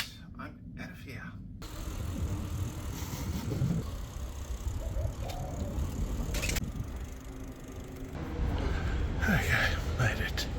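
Bicycle riding outdoors with a steady rumble of wind and road noise throughout, a few faint clicks and brief quieter patches, and a voice speaking softly at points.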